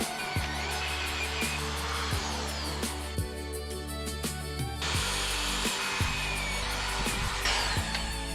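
Power drill boring holes through wood for fence bolts outdoors, a loud sustained whirring motor whine with pitch shifts as it bites and eases off, and brief pauses between bursts.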